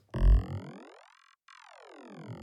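A synthesized tone from an Arturia MiniFreak vocoder with modulated spectrum sweeps downward in pitch, cuts out briefly, then sweeps back up again, with a buzzy, harmonic-rich, filtered timbre.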